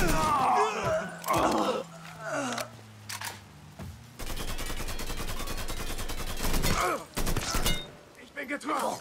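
Gunfire in the video game Mafia III comes as bursts of sharp shots and a sustained rapid stretch of automatic fire, broken by short pauses, with voices talking between the volleys.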